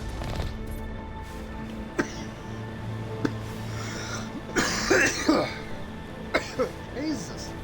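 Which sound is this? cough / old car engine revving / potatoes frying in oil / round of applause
cough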